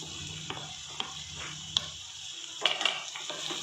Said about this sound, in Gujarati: ફ્રાય કરી લઈશું એને સારી રીતે 2 થી 3 મિનિટ માટે